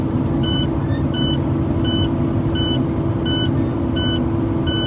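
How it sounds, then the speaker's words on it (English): A truck's low air pressure buzzer, triggered below 60 psi, beeps loudly in a steady pulsing rhythm about seven times over the constant low rumble of the idling truck engine. "that's my low air pressure buzzer alarm because it's below 60 psi right now"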